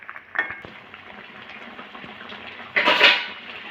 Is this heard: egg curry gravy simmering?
yes